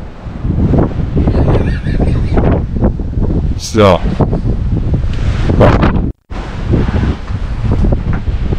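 Strong wind buffets the microphone on an exposed mountain hike in Scandinavia's Natfjelldalen during a storm, a steady roaring gust noise that runs throughout beneath a person talking, with one brief dropout near the end.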